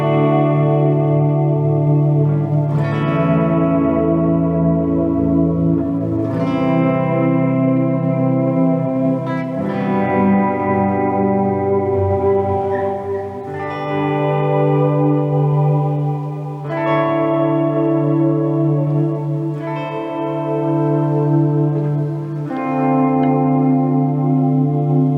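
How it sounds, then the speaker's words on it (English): Electric guitar played through a Fender Blues Deluxe Reissue amp, with chords and notes swelling in slowly via an Ernie Ball Junior volume pedal, washed in reverb and a big delay, each swell blooming and trailing off in echoing tails, no talking. "that's using a volume pedal, the Ernie Ball Junior volume pedal. I've got the reverb on. I've got a little bit of delay on, a big delay on there."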